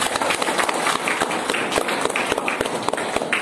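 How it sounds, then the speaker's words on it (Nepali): A church congregation applauds together, a dense, steady patter of many hands clapping at close range, loud and even for the full few seconds. "ताली बजाएर परमेश्वरलाई धन्यवाद दिनुहोस्"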